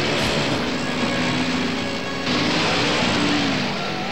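Steady, loud propeller aircraft engine drone in a riffed old movie, a continuous broad roar that holds unbroken throughout with a slight shift midway.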